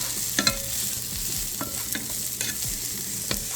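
Onions seasoned with roasted garlic and herb seasoning sizzle steadily in a pan while a utensil scrapes and stirs them in a few short strokes, close and moderately loud, with no talking.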